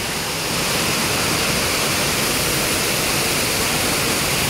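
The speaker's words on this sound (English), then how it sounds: "Okay, so we're here and here's the water park." Rushing water fills a Great Wolf Lodge water park with a loud, constant wash of broadband noise that swells slightly at the start and then holds steady, with no voices heard.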